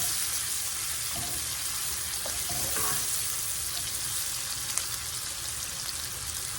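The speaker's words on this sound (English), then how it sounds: "Now we're going to get these kind of cooked up and kind of sauteed up looking a little bit" Cabbage sizzles in a hot skillet, a steady, close frying hiss with faint stirring knocks and scrapes now and then, no talking.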